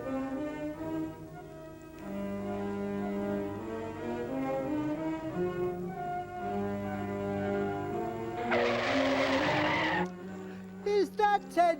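A car swerves recklessly up onto a sidewalk, one short burst of tire noise rising partway through over a steady musical score.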